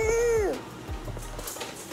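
A pet cat gives one drawn-out meow close by at the very start, then the room falls quiet apart from faint background noise.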